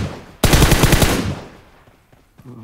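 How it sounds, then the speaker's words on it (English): Video game shotgun fire: a sudden loud blast breaks into a fast run of rattling shots, then fades to quiet with a faint sound at the end. "Shotgun, try shotgun."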